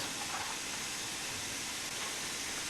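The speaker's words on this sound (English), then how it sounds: "So that's the steam brake right there." The steam brake on a train in Train Sim World hisses, a steady loud broadband rush that holds without a break for the whole stretch, close and constant, with no talking.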